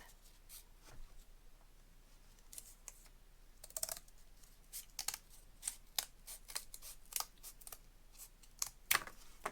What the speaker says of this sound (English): I'm going to cut a strip